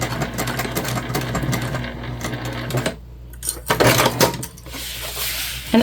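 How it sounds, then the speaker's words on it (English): Sewing machine back stitching on a tote bag: a short run of fast mechanical needle hammering, a pause, then a few quicker bursts and clicks of handling, close and without speech. "we're going to do that good back stitching"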